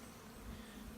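A honeybee colony clustering inside a hive during winterization gives off a steady, low, close-up hum with no voices.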